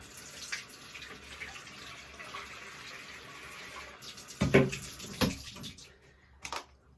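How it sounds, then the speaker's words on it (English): Water from a tap runs into a bathtub while vintage clothes soak, a quiet steady trickle with a few louder splashes and pours in the second half. "I'll just put a little bit more water in here."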